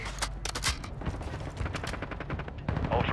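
Rapid bursts of automatic gunfire and scattered shots from a military shooter video game, with sharp repeated cracks over a dense rumbling battle backdrop, close and loud throughout.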